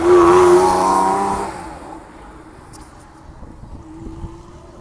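A Porsche sports car at an outdoor car meet gives a loud engine rev or pass-by at the start that fades quickly, leaving quieter background rumble and faint sounds of the gathering.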